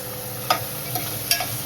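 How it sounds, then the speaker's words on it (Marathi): Capsicum and onion being stir-fried in a pan for homemade desi Chinese food: a few quick scraping stirs over a low, steady sizzle, close by. "मिरची घेतलं परतलं. नंतर टाकूया कांदा."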